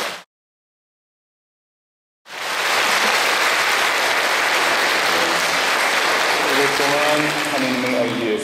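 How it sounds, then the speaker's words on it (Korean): After a brief cut-off sound and two seconds of silence, a congregation at a Catholic baptism Mass bursts into loud, sustained applause that fills the church, with a faint voice or tone emerging late under the clapping. "먼저 오늘 세례를 받게 될 형제 자매들에게 축하의 박수 먼저 힘차게 쳐드립시다"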